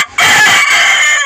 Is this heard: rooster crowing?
yes